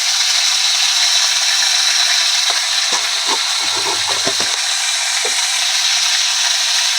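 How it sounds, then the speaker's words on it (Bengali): Panch phoron spices dropped into hot oil in a wok give a steady, bright sizzling hiss, with a burst of sharp crackles and pops in the middle. No one speaks. "এবার কড়াটা একটু ফাঁকা করে নিয়েছি এবার দেখো অল্প পাঁচ ফোড়ন দেবো দেখো"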